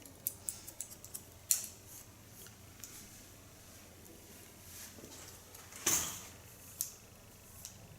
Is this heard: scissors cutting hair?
yes